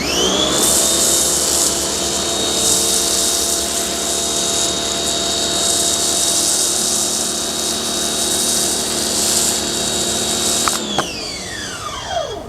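An MJJC Foam Cannon S V3.0 sprays steadily with its knob fully open, giving a loud, even motorized whine and hiss from a pressure washer that holds for about eleven seconds before winding down abruptly.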